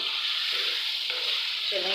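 Boneless beef and tomatoes frying in a karahi, a continuous bright sizzle with occasional stirring scrapes, close and steady with no talking.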